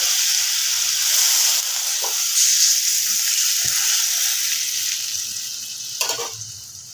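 Water poured into a hot pan of mixed vegetables with a green chili hisses and sizzles, a strong steady frying noise close by that slowly dies down, with a few light clicks from a utensil.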